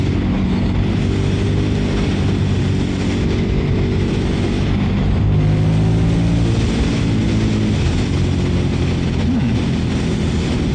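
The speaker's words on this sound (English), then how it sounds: "going on to dual carriageway, where I can open up the throttle a little bit as the speed limit is 70" Ducati Monster 950 motorcycle accelerating on a dual carriageway, heard from the rider's position: a loud, steady engine drone with rising harmonic tones as the throttle opens, blended with constant wind rush, no talking.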